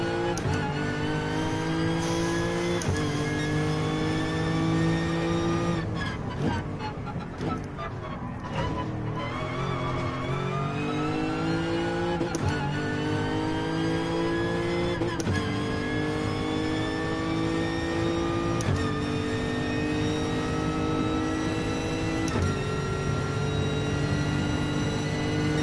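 Car engine in the Gran Turismo Sport racing game, loud and continuous, revving up and down through repeated accelerations and gear changes across the whole stretch, with brief dips and tire noise.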